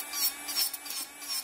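Electric nail drill filing and refining the surface of a nail during a nail-art session, a steady high-pitched whirring with slight rises and dips in pressure, quiet and close throughout.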